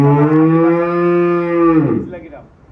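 A single cow at a cattle farm gives one long, loud, close moo lasting nearly two seconds before fading into faint background noise.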